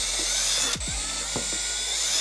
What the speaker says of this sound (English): So I'm going to go ahead and drill some pilot holes.